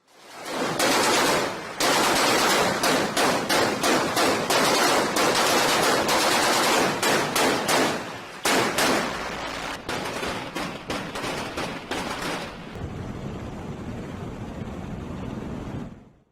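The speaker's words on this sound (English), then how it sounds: "Let's see how much ordnance a United States Navy destroyer can put downrange in about 10 seconds." US Navy destroyer firing its weapons, loud rapid bursts of gunfire in long repeated volleys, a brief pause near the middle, then a quieter rumbling tail with scattered reports.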